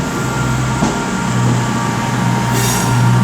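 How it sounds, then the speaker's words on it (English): A Super Voyager and Voyager combination train departs Birmingham New Street station, a loud, close, steady rumble of wheels and engines, with a rising squeal near the end. "now coming out is going to be the 1403 cross-country service to Glasgow Central from Bristol Temple Meads, worked by Super Voyager and Voyager combination"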